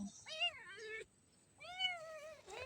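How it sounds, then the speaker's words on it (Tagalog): A grumpy, standoffish pet cat meows twice, close and clear, with a short pause between the two drawn-out cries. "yung malditang pusa"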